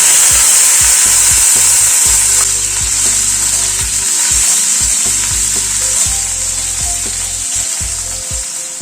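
Boiled potatoes frying in hot white oil in a wok give a loud, steady sizzle, with repeated scraping and knocking of a spatula stirring them, close up and without talk.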